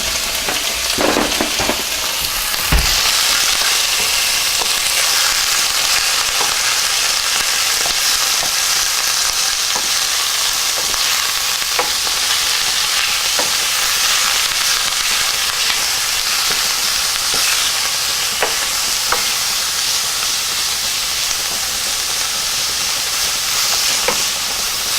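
Lamb pieces with a bit of fat sautéing in a pan for a lamb tomato rice dish, a loud continuous sizzle and crackle with scattered pops and stirring scrapes, no speech.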